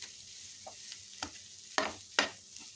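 Potatoes are stirred together with spices in a pan, giving several soft scraping strokes and two sharper clatters against a quiet, faint sizzle, with no talk.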